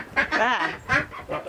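Ducks inside a mobile chicken coop quack loudly and close by, with several short nasal calls in quick succession.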